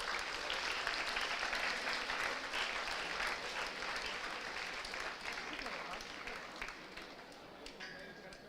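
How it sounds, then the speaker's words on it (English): An audience claps throughout the inaugural ceremony of a student induction program. The applause is dense and sustained and fades slightly toward the end. "why are you so hesitant to give a big round of applause?"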